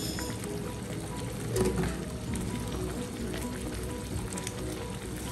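Ghee hits a hot cooking pot of rice with egg korma, giving a steady dense sizzle and crackle with a brief louder burst near the start, close and continuous throughout.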